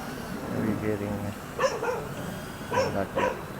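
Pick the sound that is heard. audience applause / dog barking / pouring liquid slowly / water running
dog barking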